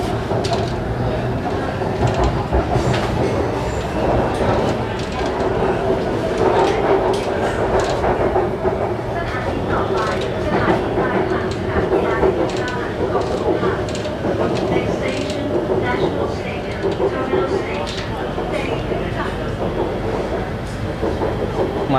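Thai metro train running between stations toward the National Stadium, a steady loud rumble with rhythmic clickety-clack of wheels on rail joints throughout, continuous and close as if heard from inside the carriage.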